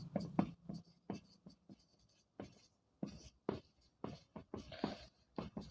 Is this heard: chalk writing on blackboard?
yes